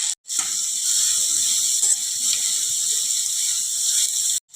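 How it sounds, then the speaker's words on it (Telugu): Ridge gourd pieces sizzle in hot oil, a steady, dense frying hiss that starts abruptly after a brief silence and holds at an even level before cutting off near the end, with no voices over it. "వేగిన ఆయిల్లోకి బీరకాయ ముక్కలు వేసి వేయించుకోవాలి"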